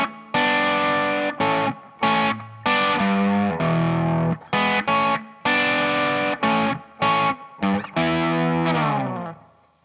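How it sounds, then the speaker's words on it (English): Distorted electric guitar plays a bluesy, hybrid-picked riff, with choppy stabs, short gaps and sustained ringing notes, loud and upfront. "we're gonna start off with this opening bluesy riff that uses some hybrid picking with the finger picking hand."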